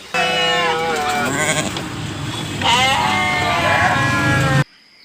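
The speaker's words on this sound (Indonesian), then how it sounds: "Wadidaw, ini domba teman-teman." Sheep bleating loudly and close, two long wavering bleats in succession, then abrupt silence.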